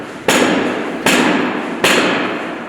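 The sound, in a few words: bat striking glass covered with anti-graffiti film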